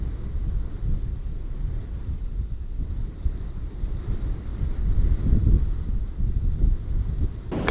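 Strong spring wind buffets the microphone in a constant low roar, with gusts swelling and easing throughout.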